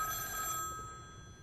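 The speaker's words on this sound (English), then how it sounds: "The phone's ringing. The one out in the street." A street telephone rings with a bright bell-like tone that cuts off partway through, leaving a fading hum behind.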